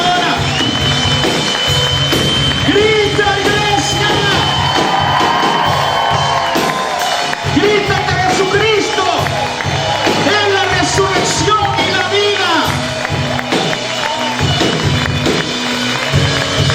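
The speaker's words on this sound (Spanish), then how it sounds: "Grita, iglesia." A church congregation shouts and cheers together over loud ongoing worship music, with whoops and mixed voices forming a dense, sustained crowd roar.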